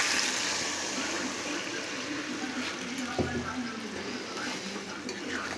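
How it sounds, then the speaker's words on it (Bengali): Water is poured into a pan of simmering deshi chicken and potato curry, a steady close gushing splash that runs throughout, loud and continuous. "এবার আমি জল দিয়ে দেবো।"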